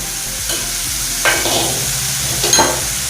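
Sliced shallots being stirred in hot oil in a pan for a mango curry, giving a steady close sizzle with scraping stir strokes at about one-second intervals and no talking.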